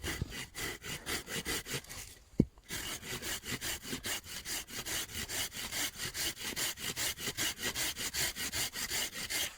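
A hand saw cuts back and forth through wood for a bushcraft handle at a snowy camp, with steady rhythmic strokes up close, a brief pause and a knock midway, and no talk.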